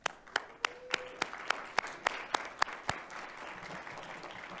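A small audience at a Mott Community College board of trustees meeting claps in a sparse, uneven burst, individual sharp hand claps standing out near the start before tapering into faint scattered clapping.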